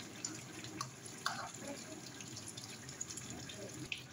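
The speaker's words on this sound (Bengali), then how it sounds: "আমি আর একটু জল দিয়ে দেবো এর মধ্যে।" Water is poured into a cooking pot of simmering Bengali sukto with mustard and poppy seed paste, a faint steady trickle with a few soft splashes, quiet and close.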